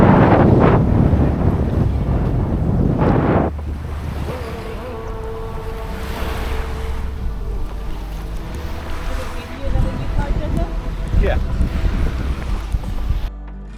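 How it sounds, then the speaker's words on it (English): Strong wind buffets a beach on a Disney cruise stop, a loud, constant rumbling roar over the microphone with crashing surf mixed in, heaviest at the start and easing slightly afterward. "It was very windy on that side."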